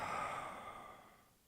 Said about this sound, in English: Open your mouth, exhale.